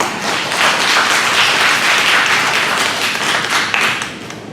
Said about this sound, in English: Feel free to applaud if you want.